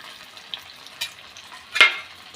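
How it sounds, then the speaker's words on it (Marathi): Crispy fasting-style bhaji fritters fry in hot oil with a soft, steady crackle, broken by a few light clinks and one louder splash-like burst near the end. "थोडा वेळ तेलामध्ये तळून द्यायचे आहे"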